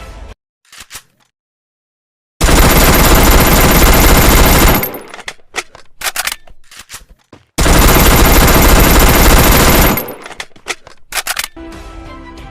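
Video game automatic gunfire from a UMP and a Vector in Garena Free Fire, two loud sustained bursts of rapid fire separated by clicks, reload clatter and brief quiet, with no talk.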